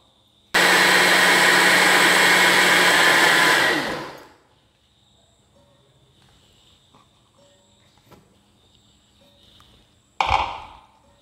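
A mixer grinder blends rice batter for palappam in one loud, steady whir of about three seconds, then winds down to quiet. A few small clinks follow, and near the end comes a sharp clunk.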